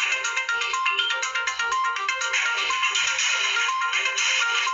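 A phone notification tone plays as a bright, repeating electronic melody that carries on steadily for several seconds, loud and alone.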